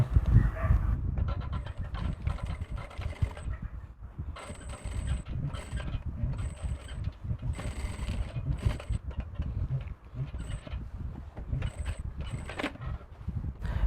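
A sewing machine runs in repeated close bursts of rattling mechanical whirring, stitching dori piping onto a dress neckline, with short pauses between runs and no talking.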